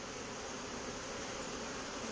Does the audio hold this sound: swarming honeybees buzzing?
yes